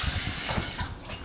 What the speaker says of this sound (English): you just rinse out the pot, which since it's noodles, it flows very easily out of the pot